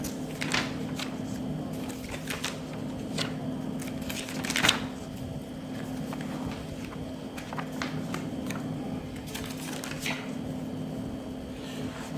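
Paper pages of a pellet test target are turned one after another, giving a run of soft crisp rustles and flicks over a steady low hum, close and fairly quiet, with no voice.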